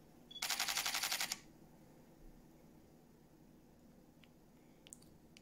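A Pentax camera shutter fires in high-speed continuous shooting mode, a rapid close burst of about ten sharp mechanical clicks in roughly one second, followed by near silence and a few faint clicks.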